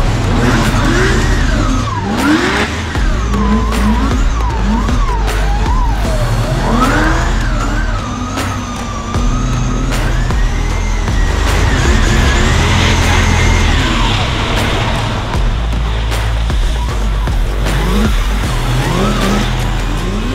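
A powerful Nissan S15 drift car at a French drift championship final on the Val de Vienne circuit, its engine roaring loud and continuous with rising and falling revs and tyre squeal throughout.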